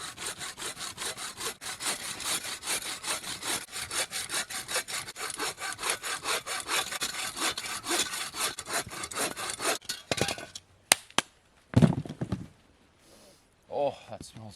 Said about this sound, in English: I'm gonna cut up some smaller pieces and kind of get set up for the night here